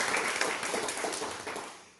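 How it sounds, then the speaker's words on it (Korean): A church congregation claps after a Sunday service prayer, a soft, fairly distant patter of hands that fades away over a couple of seconds. "우리 박수 한번 해주시겠습니다."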